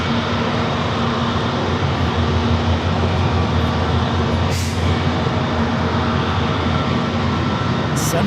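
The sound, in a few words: Delta A321neo airliner engines at San Diego airport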